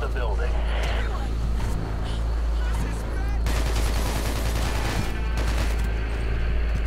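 Rapid bursts of gunfire ring out in the video game Hatred, a quick run of sharp shots layered over game sounds while a person talks.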